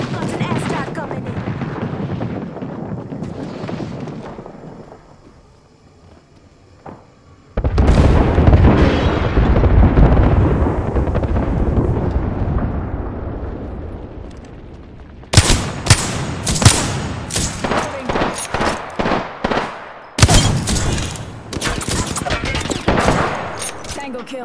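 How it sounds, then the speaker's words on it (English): Airstrike and gunfire in Apex Legends: a long, loud rumbling blast, then a brief lull, then another sustained roar, followed by dense, rapid volleys of gunshots in repeated bursts. "Got an airstrike coming in."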